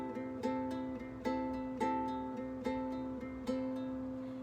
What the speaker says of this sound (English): you're going to pluck all the strings like this